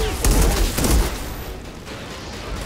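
Sniper gunfire in the Outriders video game, a couple of loud heavy booming shots close together near the start, then fading into a low rumbling tail.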